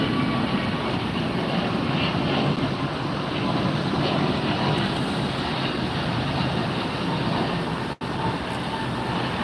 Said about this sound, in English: And taking off is United.